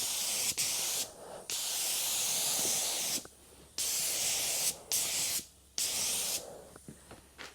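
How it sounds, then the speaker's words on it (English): Spray gun laying clear coat on a 1957 Chevy rag top, heard as a run of loud, steady hissing bursts separated by short pauses. "we got some paint in the gun. I think we'll just do kind of one coat"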